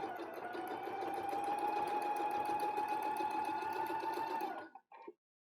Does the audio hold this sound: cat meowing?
no